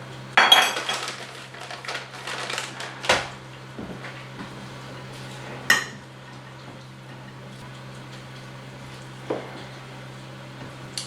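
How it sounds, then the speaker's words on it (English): Turkey stuffing with cranberries stirred in a bowl, heard as a few scattered clinks and taps of a utensil against the bowl in an otherwise quiet kitchen with a low steady hum. "And I could always use a little bit more mixing."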